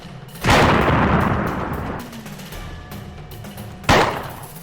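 Two loud booming gunshots from the Flash game Toss the Turtle, the first followed by a long rumbling decay, the second about three seconds later, both close and unaccompanied by speech.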